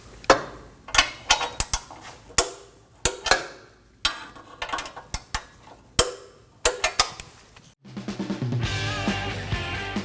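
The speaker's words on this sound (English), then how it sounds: "Now we're going to torque our exhaust fasteners down to 18 foot-pounds." A torque wrench tightens the exhaust fasteners to 18 foot-pounds while a 2013–2022 Chevrolet Trax driveshaft is replaced, giving a quick series of sharp ratchet clicks, then a steady mechanical whir near the end.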